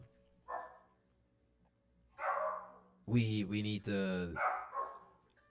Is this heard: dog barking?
yes